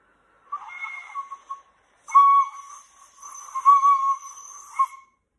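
Tin whistle notes played alone, a short wavering phrase, a pause, then longer sustained tones with small trills, clear and fairly loud.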